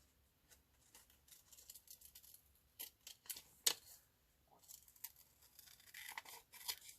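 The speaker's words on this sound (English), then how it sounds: "I'm just going to cut around that." Scissors snip around a paper picture cut out for a collage, with soft, quiet crisp cuts and paper rustles coming in irregular bursts and short pauses, close up and with no talk.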